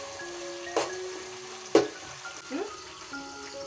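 Tomatoes fry in ghee for dum biryani. A soft, continuous sizzle is broken by a few sharp scrapes and clinks as a spoon stirs the pan.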